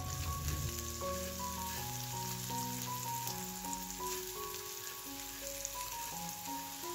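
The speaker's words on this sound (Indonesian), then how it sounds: "panaskan secukupnya minyak goreng, kemudian kita akan tumis bawang bombay dan bawang putih" Onion and garlic sautéing in hot cooking oil, a steady, even sizzle throughout with no talking, under a continuous backing tune.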